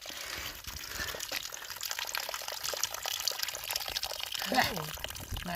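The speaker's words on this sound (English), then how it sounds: "this is our first bona fide spring water coming out of a pipe" Spring water pours steadily from a pipe along a mountain trail, a constant splashing rush with voices talking faintly over it.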